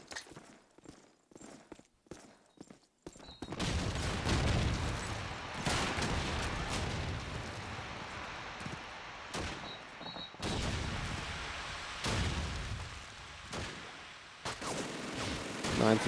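Gunfire sprays in Call of Duty 2 during a tournament match: after a few scattered shots, a dense, sustained rattle of shooting runs almost continuously with brief gaps, with faint talk underneath.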